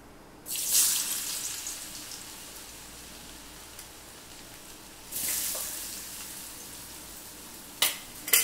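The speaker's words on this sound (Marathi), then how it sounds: "आपलं आता तेल तपलं, टाकू त्यामध्ये बटाटा" Potatoes dropped into hot oil, a loud hissing sizzle bursting up at first and then settling into a quieter, steady fry, with a second surge of sizzling a few seconds later and brief clatters near the end.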